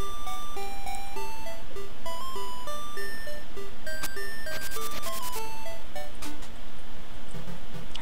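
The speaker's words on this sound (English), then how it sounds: "phone booth house music is a little spoopy" Phone booth house music from the video game Link's Awakening plays as a simple, beeping electronic melody of stepping notes over a steady hum, loud and continuous.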